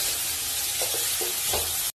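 Onions with garlic and salt fry in a pan, giving a bright, even sizzle throughout. A few soft stirring scrapes break in before the sound cuts off abruptly at the end.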